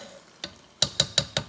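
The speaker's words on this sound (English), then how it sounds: "You hear that mac and cheese mixing?" Thick, wet squelches from a spoon stirring gooey mac and cheese, five quick scrapes with the last four coming in a steady rhythm.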